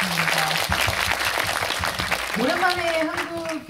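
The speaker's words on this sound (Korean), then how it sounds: "네, 박수 부탁드립니다." Audience applause at a post-screening Q&A for the Korean film Room No.7, steady clapping throughout with a voice speaking over it near the end.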